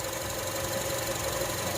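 Engine of a 2009 third-generation Honda CR-V 2.4 automatic running steadily, a close, continuous even hum with a faint knocking texture and no talk over it.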